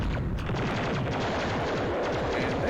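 Rapid weapons fire from a space battle in the video game Escape Velocity, with a raid by rebels that includes torpedoes: dense, fast repeating bursts that crackle continuously at moderate loudness with no voice over them.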